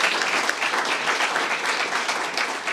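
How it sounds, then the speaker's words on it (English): An audience at a startup weekend pitch night applauds after a pitch, the steady, dense clapping filling the room at close range throughout the short stretch with no break. "Big round of applause."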